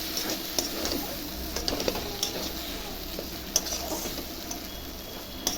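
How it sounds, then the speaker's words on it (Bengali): Paneer frying in a pan of oil at home: a soft, steady sizzle with faint scattered ticks and stirring clicks, close but quiet, with no talking. "এই পনিরগুলো ভেজে নিচ্ছি।"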